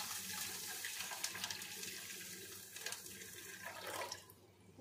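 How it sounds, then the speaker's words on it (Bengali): Water poured into a cooking pot holding cardamom to make sugar syrup, a steady continuous splashing stream for several seconds that thins out near the end, close and alone. "এই যে জল দিয়ে দিলাম"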